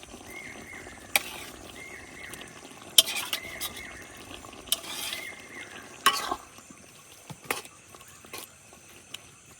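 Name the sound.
fish stuffing stirred into sizzling potatoes in pan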